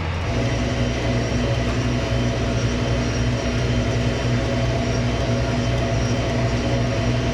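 A farm tractor drives down a road at about 20 miles an hour, its engine a steady, loud drone with constant low harmonics and road rumble, unbroken and close, with no voices.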